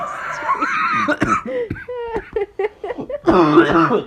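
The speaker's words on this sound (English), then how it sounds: "We're coughing every 2 seconds." Several short, harsh coughs break out amid voices and laughter, close by, with a throat clearing mixed in.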